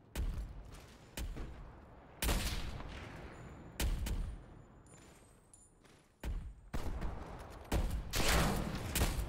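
Gunfire in Call of Duty: Black Ops Cold War during a 4v4 match, with loud separate bursts and shots spread across the clip, some sharp and isolated, others in longer rattling volleys.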